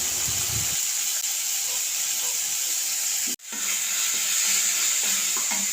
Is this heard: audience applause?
no